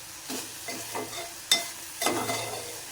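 Onion greens with kokum and salt being stirred in a pan, a few separate scraping strokes of a spoon against the metal over a soft background, close and fairly quiet.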